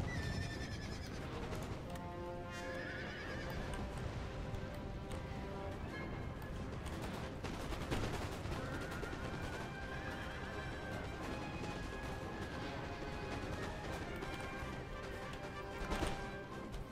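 Cavalry horses in a Napoleonic-era battle neigh and whinny repeatedly over a constant thunder of galloping hooves and battlefield din, loud and dense throughout with no pauses.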